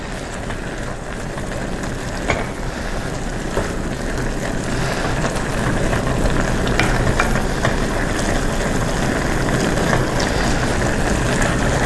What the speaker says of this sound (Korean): 계속 저어주시면 됩니다.